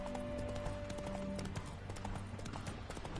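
Horse hooves clip-clop steadily at a walking pace in The Witcher video game, a close rhythmic clatter over a faint background hum, with no talking.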